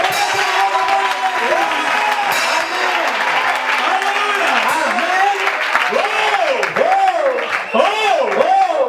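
A church congregation applauding and cheering, sustained clapping and shouting that fills the room while voices rise and fall over the noise.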